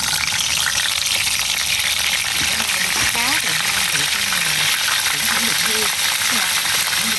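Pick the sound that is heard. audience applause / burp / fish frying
fish frying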